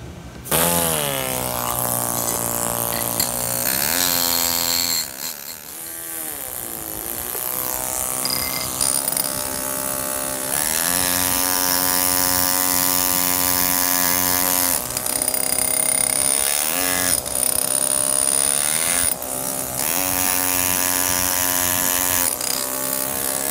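Power saw cutting marble stone for a memorial cross, a loud sustained whining drone with pitch shifts as the blade bites, broken by brief pauses.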